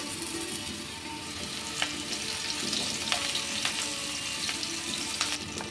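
Eggplant pieces fry in oil on a low gas flame, giving a steady, close, crackling sizzle with occasional brighter pops, no voices.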